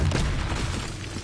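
A Confringo blast spell goes off in Hogwarts Legacy as a single short, loud, booming burst with a deep rumble that fades quickly.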